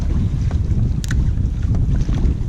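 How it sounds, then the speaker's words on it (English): Strong wind of about 20 to 25 mph buffets the microphone on a fishing boat, a loud, continuous low roar with gusting rumble throughout. "Probably 20 to 25 mile an hour wind."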